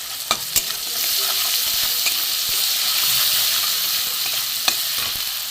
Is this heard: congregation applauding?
no